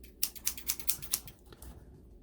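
Scissors snipping through a box, six or seven crisp, sharp clicking cuts in quick rhythm, close and fairly quiet, then a few softer rustles.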